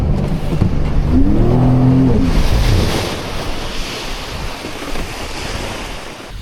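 Loud wind and rushing ocean surf roar against the microphone, with a brief jet ski engine hum early on, then settling into a churning wash of water.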